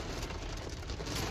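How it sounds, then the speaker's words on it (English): Steady rain patters on a surface during a university move-in day, a soft continuous hiss with scattered drops, fairly quiet and even. "I'm sure you can hear the rain."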